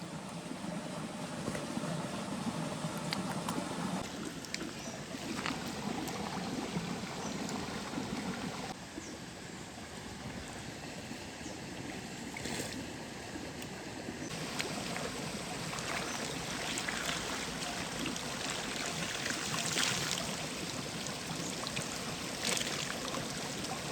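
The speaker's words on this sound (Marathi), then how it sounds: "पाणी बघा कसला सुसाट चालला एकदम" A fast-flowing riverbank stream rushes steadily at night, a continuous broadband wash of water that stays loud and even throughout.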